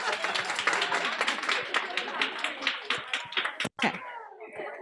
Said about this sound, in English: Yes, big round of applause.